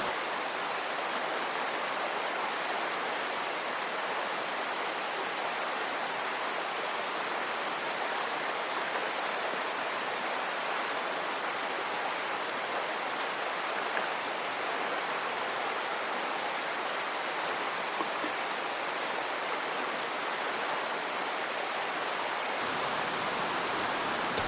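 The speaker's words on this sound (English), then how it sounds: "so just pour it all in." Steady broadband rushing of hot water being poured into an AeroPress coffee maker, about 200 grams, continuous and fairly loud, with no voices, ending abruptly near the finish.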